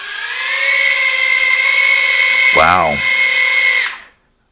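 Tiny Furibee F36 quadcopter motors whine at a high steady pitch during an upside-down thrust test, loud and close, briefly swelling then cutting off to silence, with a short spoken exclamation midway.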